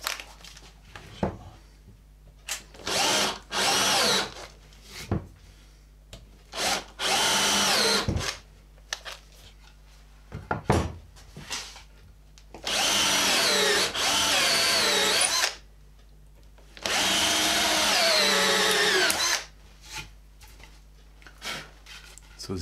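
Power drill whirring in several long bursts with pauses between, close and loud, boring and countersinking holes in multiplex plywood for a homemade front vise, with brief bits of talk and handling noise in the gaps.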